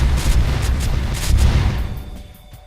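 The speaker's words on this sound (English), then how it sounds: "explosions are fun, so here we go." Explosive objects detonating in a horror game corridor, heard as a dense run of booming blasts and rumbling bursts that stay loud for about two seconds before fading into quieter debris.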